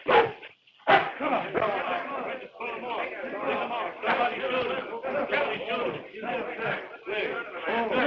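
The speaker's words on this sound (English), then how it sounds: "You ain't gonna shoot that dog!" A dog barks repeatedly in a 1930 black-and-white adventure serial, loud sharp barks overlapping with excited shouting voices and crowd commotion throughout.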